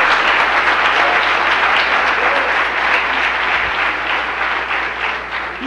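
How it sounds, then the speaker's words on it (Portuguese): A church congregation applauds loudly and continuously, a dense, close roar of clapping that holds steady and fades only slightly toward the end. "Aplauda bem forte ao Senhor."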